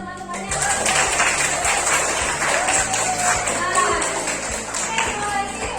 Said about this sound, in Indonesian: Aplaus buat teman-temannya.